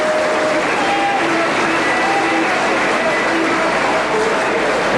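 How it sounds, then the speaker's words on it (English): A partisan crowd at a St Helens versus Auckland rugby league match gives a rousing, sustained cheer and applause as the Auckland touring team in blue shirts runs out, a dense roar filling the stadium throughout. "Rousing cheer from obviously going to be a partisan crowd here."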